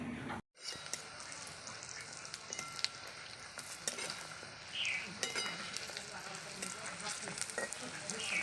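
Small lentil fritters (bori) fry in oil with a dense, close sizzle after a brief pause at the start, and light clatters and scrapes come through from time to time.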